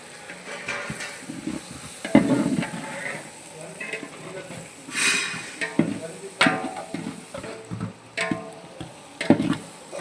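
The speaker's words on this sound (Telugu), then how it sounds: "అయితే ఇప్పుడు టమాటా పేస్ట్ వేసుకుంటాం." Tomato paste is added to a pan and fries with a steady sizzle, broken by spoon clinks and scrapes against the pan as it is stirred, while someone speaks faintly in the background.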